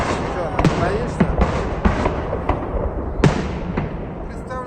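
Fireworks salute display bursting outdoors, repeated sharp cracks and bangs at irregular intervals over a continuous rumble, with people talking nearby.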